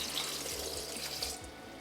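Two cups of water pour into a blender jar of softened red peppers and garlic, a steady splashing stream running close and moderately loud for a couple of seconds with no talk.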